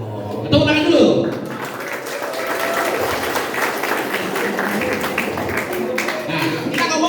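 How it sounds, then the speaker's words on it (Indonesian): Audience applause at a motivational talk, a burst of clapping that swells into a dense, sustained ovation filling the room, with a voice speaking briefly at the start. "Tepuk tangan dulu."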